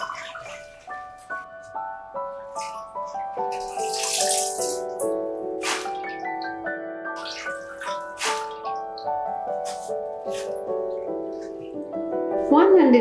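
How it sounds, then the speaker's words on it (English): Cabbage leaves for homemade kimchi soaking in cold water, with sloshing, running and splashing water under background music, growing louder toward the end. "Before salting we need to soak in cold water because soaked leaves absorb salt"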